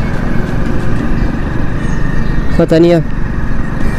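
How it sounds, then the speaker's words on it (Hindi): Modified Hero Splendor motorcycle with about 26,000 km on it idles with a misfiring engine, a steady close drone throughout, while a voice speaks briefly near the end. "ऐसा क्यों लग रहा है थोड़ी बाइक वगैरह मिसिंग मार रही है"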